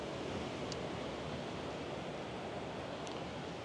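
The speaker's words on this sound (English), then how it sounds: "The river's pretty fierce today." Fast-flowing river running beside old gunpowder works in Cornwall, a steady, dense roar of rushing water filling the whole clip without pause, loud and close, with no voices.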